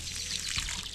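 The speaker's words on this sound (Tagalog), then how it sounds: "So lalagyan niya ng tubig." Water poured steadily into a container for corn, a continuous close splashing rush with no pauses, heard on its own.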